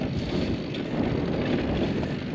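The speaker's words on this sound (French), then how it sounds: "Il y a un peu de vent, de face." Headwind on a cyclist towing a trailer on a long countryside ride roars as steady wind buffeting against the microphone, a dense continuous rush with no pauses.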